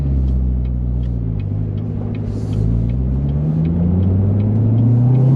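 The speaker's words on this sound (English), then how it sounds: "I can barely hear a little supercharger whine as well." Chevrolet Corvette C7 Z06 with a supercharged engine idling and rumbling steadily, a low engine drone that rises slightly toward the end, with a faint high supercharger whine over it and no talk.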